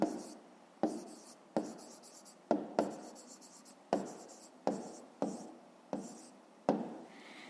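Pen writing the answer to a 5th-grade math exercise on paper, close and distinct, with about a dozen short strokes in a steady rhythm, each a crisp scratch fading quickly, and no talking.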